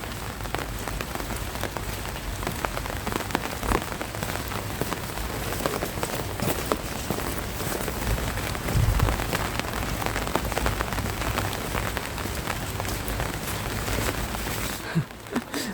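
Steady light rain patters and drips on a surface, a soft continuous wash of droplets with no voices.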